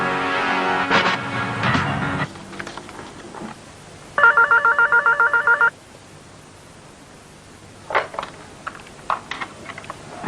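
A telephone rings in a short, rapid burst of repeated electronic trills, loud and close in a quiet room, with brief sounds before and after.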